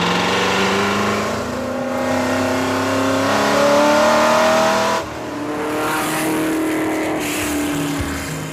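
Superformance GT40 Mark I sports car engine revving loudly and continuously, pitch rising through a long pull before dropping and climbing again as it accelerates, with no voices.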